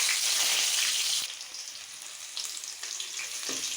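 Crushed garlic sizzles in hot oil with mustard seeds, a bright crackling hiss that is loud at first, then drops to a softer, steady sizzle with occasional pops.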